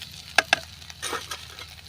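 Corn paratha masala sautéing in oil in a pan, a soft low sizzle broken by two sharp metallic taps of a utensil and a brief scrape.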